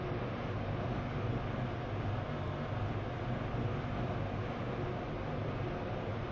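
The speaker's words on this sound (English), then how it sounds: "This train is now approaching Leighton Stepford Road." In the Roblox game Stepford County Railway, a train rumbles steadily as it approaches a station, a dense, even, low roar with no talking.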